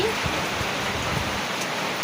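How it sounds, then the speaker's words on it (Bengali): Heavy rain that has just begun pours down in a dense, steady hiss, constant and fairly loud, with no breaks across the short stretch. "কোথায় বৃষ্টি সবে শুরু হলো হ্যাঁ কত জোরে পড়ছে"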